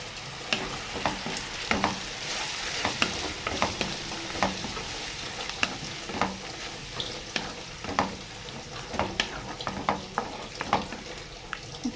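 Chicken masala with onions cooks in a pan, giving a steady close sizzle with frequent clinks and scrapes of stirring throughout, no voices.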